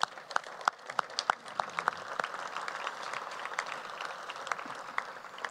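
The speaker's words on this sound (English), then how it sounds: "if you join me, a round of applause for all of our donors" An audience at a symposium session of the 2018 Borlaug Dialogue applauds its donors, a broad, steady wash of clapping that swells and holds with a few sharp nearby claps standing out at the start, no talk over it.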